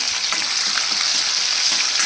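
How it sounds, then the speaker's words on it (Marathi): Steady, loud sizzling of green chilies and cumin frying in hot oil, a dense crackling hiss that runs unbroken with small pops throughout. "तेल तापलं आता हिरवी मिरची टाकून घेते"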